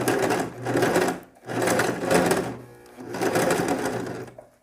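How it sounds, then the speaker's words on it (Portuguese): A sewing machine stitches a straight safety seam at a skirt slit, running loud and close in three steady bursts separated by brief pauses. "Eu vou passar uma costurazinha reta aqui na fenda, tanto aqui como na outra fenda"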